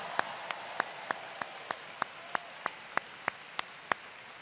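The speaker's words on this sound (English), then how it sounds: "A round of applause for those paying out-of-state tuition" Slow, evenly spaced single claps, about a dozen in a steady beat, sound faint and a little distant at a University of Virginia commencement ceremony, with no crowd roar behind them.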